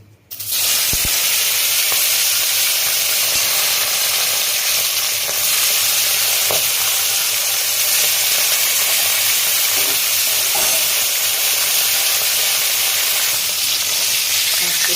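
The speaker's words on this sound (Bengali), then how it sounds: "তেলটা গরম হয়ে গেছে হলুদ দিচ্ছি" Turmeric sizzling in hot oil in a pan while preparing a tilapia fish curry, a steady, loud, close frying hiss with faint clinks that holds evenly for the whole stretch.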